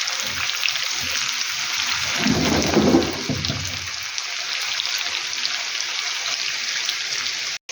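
Young potatoes and onions with pork cracklings frying in a pan, giving a steady, dense sizzle and crackle throughout, with a brief louder swell of spatter near the middle.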